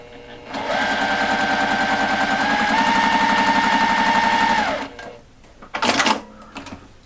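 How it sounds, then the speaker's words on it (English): Sewing machine stitching a quarter-inch seam, one steady whirring run of about four seconds, close and loud, followed by a few handling clicks. "I'm going to go back to my 1/4 inch again, and I'm going to sew."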